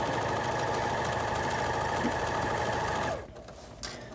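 A sewing machine stitches built-in scallops, a steady loud close-up whirring hum that runs for about three seconds and then stops, leaving faint rustling.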